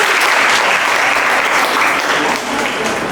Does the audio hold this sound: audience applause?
yes